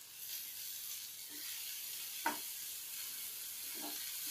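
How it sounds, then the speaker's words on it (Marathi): Chopped dill greens are sautéed in a pan, making a quiet, continuous sizzle broken by a few brief scraping stirs of a spoon. "थोडी थोडी घालून अशी परतून घ्यायची आहे।"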